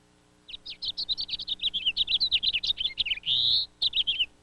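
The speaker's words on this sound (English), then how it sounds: "A flock of house finches can empty the seed from a feeder in a few hours" A flock of house finches chirps busily at a winter seed feeder, a dense run of quick high twittering notes followed by a longer warbled call, close and clear with no talking.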